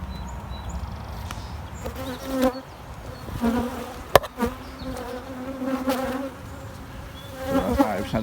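Honeybees buzzing inside an overcrowded observation hive, a steady close hum with individual bees whining past, plus one sharp tap midway.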